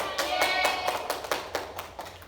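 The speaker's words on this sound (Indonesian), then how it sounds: "Beri tepukan." Students in a classroom clapping in a brief, rhythmic burst, about ten distinct sharp claps at an even tempo, fairly close and fading toward the end.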